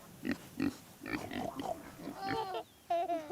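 Pigs on a farm grunt and oink in a quick series of short snorts, fairly close, followed by a few higher squeals near the end.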